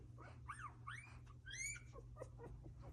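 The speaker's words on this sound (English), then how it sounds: "here's some puppy sounds for you to start your day" Two-day-old puppies from a litter of ten whimpering and squeaking, several short high rising cries close by over a low steady hum, no talking.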